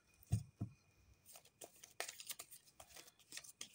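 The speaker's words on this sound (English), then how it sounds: "So, I'm shuffling the cards, I'll lay them down and then we'll see what you need to know." Tarot cards being shuffled by hand, a few soft papery slaps followed by quick light riffling and crinkling bursts, close but very quiet.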